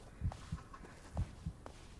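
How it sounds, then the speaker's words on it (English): Heartbeat in the Blair Witch horror video game, a deep, muffled lub-dub thumping in two close pairs, throbbing low and steady with nothing else over it. "Why is my heart beating? I can hear it."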